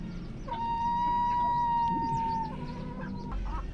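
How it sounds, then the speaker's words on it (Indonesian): A seven-month-old village hen sings before laying an egg, a drawn-out nasal cackle held for a couple of seconds and then repeated more briefly. It is close and clear over a low background hum. "Jadi seperti ini, sudah mulai bernyanyi tadi, kuak kuak kuak kuak kuak."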